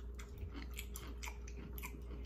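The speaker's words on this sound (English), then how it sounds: "crunch. Big crunch." Crunchy bites of hot chips, several quick crisp crunches in a close, quiet chewing sequence with no talking.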